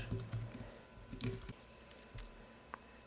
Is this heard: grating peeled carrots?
no